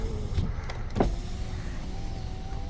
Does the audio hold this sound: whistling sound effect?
no